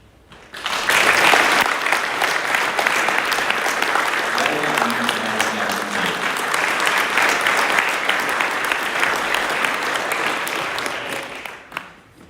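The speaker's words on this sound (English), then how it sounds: "Please give them another round of applause." An audience at a school's academic prize giving claps in a warm, sustained round of applause lasting about ten seconds, with a brief voice partway through before the clapping tapers off.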